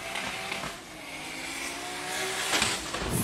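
A drift car accelerating during competition at the Drift Kings Asia Cup, its engine note rising and wavering at a distance over a steady crowd-and-track wash, with brief tire noise near the end.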